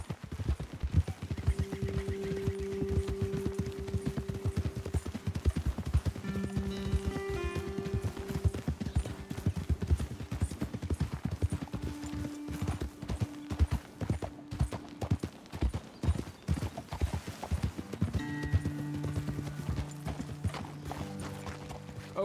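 Horse hooves clip-clopping at a steady walk in the Red Dead Redemption 2 video game, with a continuous soft, close patter of footfalls over faint background game music and no one talking.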